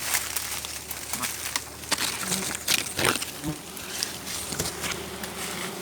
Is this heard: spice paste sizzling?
no